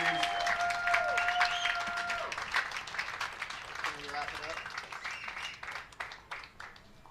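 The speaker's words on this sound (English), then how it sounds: "one big round of applause for all 4 of our 2019" Stadium crowd at a college softball senior night applauding the senior class, broad clapping and cheering that starts strong under a voice and gradually thins out.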